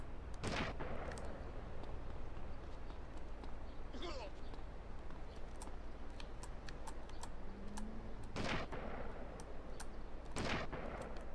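Gunfire in the video game GTA Vice City Stories, several sharp loud shots spaced apart, some in quick pairs, over a busy ambient game background with talk.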